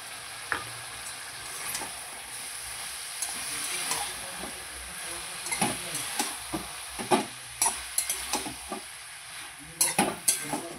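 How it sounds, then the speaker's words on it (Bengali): Green chili, ginger and cumin paste added to a hot pan, giving a steady low sizzle broken by scattered scraping stir clicks that grow denser and louder toward the end, with no talking. "এখন আমি কাঁচা লঙ্কা, আদা জিরে বাটাটা দিয়ে দেবো"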